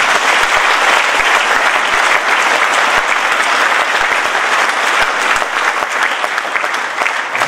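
A crowd at a public event claps in sustained applause, dense and loud throughout, with a few sharp low thumps poking through the steady patter.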